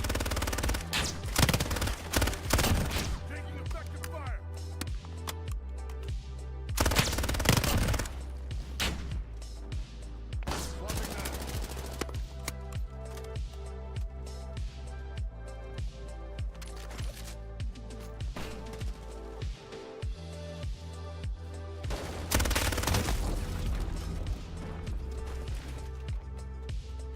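Bursts of automatic and single gunfire from a Modern Warfare beta multiplayer match rattle almost continuously, with heavier volleys near the start and again toward the end over a dense game soundscape.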